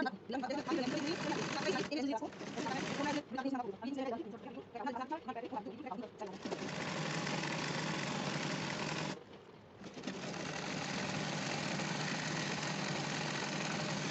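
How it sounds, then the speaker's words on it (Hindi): An electric sewing machine stitches a salwar in a long steady whir, pausing briefly partway through before running on, with a person talking over the first stretch. "ये सिलाई आपने लगानी है थोड़ी सी खींच के सलवार"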